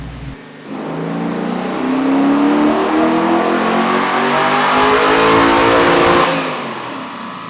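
A car engine on a dyno roars at full throttle, the pitch sweeping steadily upward through a long loud pull for several seconds before backing off, heard close and alone with no talk.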